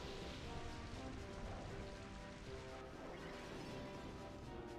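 Steady rain falling in Pokémon Colosseum, a continuous soft hiss of drops that keeps an even level throughout, faint and with no voices over it.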